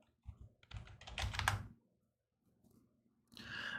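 Bursts of clicky computer-keyboard typing during a stock-charting session, a dense run of keystrokes followed by a pause, then a quieter patter and a final flurry, close and fairly soft.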